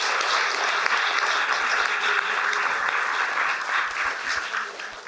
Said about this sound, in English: So join me in giving David a round of applause.